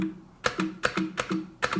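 Red-switch keys on a MAGEGEE MK-BOX mechanical gaming keyboard clack in a steady typing rhythm, about six crisp, close-up bursts of keystrokes heard alone.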